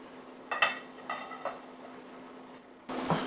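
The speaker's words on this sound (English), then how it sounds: "I'm going to take this, turn it over the skillet, and get the cornbread out" A cast-iron skillet is turned over a sink to release a pone of cornbread, giving a few close metallic clanks and knocks in quick succession, then a louder scrape or thud near the end.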